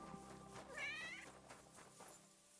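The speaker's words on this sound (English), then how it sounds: "I heard a kitty" A cat meows once in a medieval game world, a short wavering mew heard over a quiet bed of ambient music and background sound.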